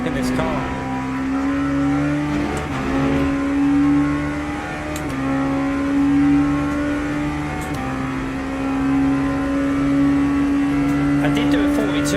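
A race car revs and shifts through its gears on a circuit in the Le Mans Ultimate sim, the engine note climbing steadily and dropping at each of several evenly spaced upshifts, loud and continuous, with a voice speaking over it.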